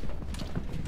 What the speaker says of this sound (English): Sounds like a lot of footsteps.